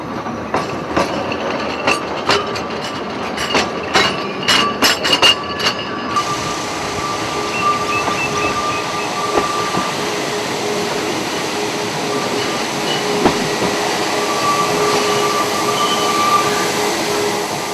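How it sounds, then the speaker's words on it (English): A harvest train is shunted along the silo offloading track, starting with rapid clicks and clanks of wagon couplings and wheels. A steady rolling rumble with faint wheel squeals follows, close and continuous. "it's down this that our harvest train is shunted"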